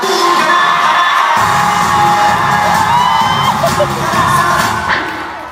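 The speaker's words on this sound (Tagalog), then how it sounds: "Magpalakpakan na may kasamang hiyaw lahat na naniniwalang maganda ako sa personal." Arena audience at a Honolulu show breaking into cheers, whoops and clapping, a loud dense crowd roar that swells after the first second and holds, easing slightly at the end.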